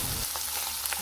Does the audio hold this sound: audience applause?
no